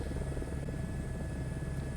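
Helicopter in Microsoft Flight Simulator 2024 flying over a tropical Bora Bora scenery, a steady droning rotor thrum with a constant low chop, close and unbroken, with no voices.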